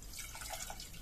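Water poured into a cooking pot of lentils (dal) in a home kitchen, a soft, steady trickling and splashing lasting about a second, close by and fairly quiet, with no talking.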